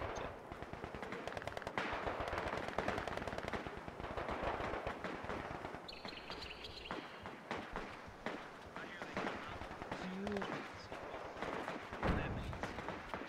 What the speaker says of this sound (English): I've got a machine gun there